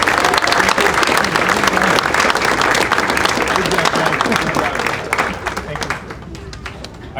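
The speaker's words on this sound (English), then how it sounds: "let's give these people a round of applause" Audience applause at a 2024 VCSU Vikings Hall of Fame ceremony, loud sustained clapping from a crowd that gradually thins and fades toward the end.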